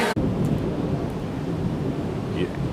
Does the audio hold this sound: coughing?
no